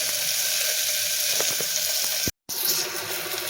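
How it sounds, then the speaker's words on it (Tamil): Onions sautéing in a pan for a Tamil kohlrabi kootu and okra poriyal lunch give a steady, close, hissing sizzle that cuts out briefly to silence before resuming. "நல்லா வெங்காயம் வந்து நல்லா வதங்கட்டும்"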